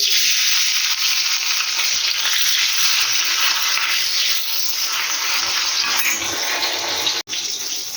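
Steady, loud sizzling of fish frying in hot oil in a home kitchen, continuous and crackling throughout, with no voices.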